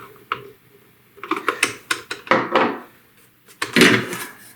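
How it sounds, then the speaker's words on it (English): Screws driven into the plastic case of an old Magnavox AM/FM cassette boombox, heard as a close series of short clicks and ratcheting scrapes coming in quick bursts with brief pauses between them, with no talk. "And so we'll turn it around and insert the screws."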